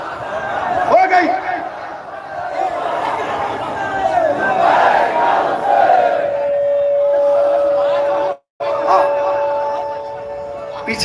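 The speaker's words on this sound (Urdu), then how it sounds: "پیچھے والے بھی نعرے لگا رہے ہیں" A crowd at a Shia majlis gathering in Banaras raises loud chanted slogans, voices surging together over chatter, then a sustained tone and a brief cut before the noise resumes.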